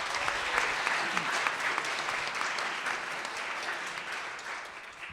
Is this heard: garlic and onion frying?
no